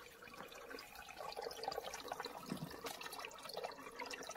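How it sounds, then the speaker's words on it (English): Clean spring water flowing out from under a rock at a holy well beside a monastery on the Isle of Mull, a steady broadband trickle and gurgle heard up close with no voices. "the spring of clean,"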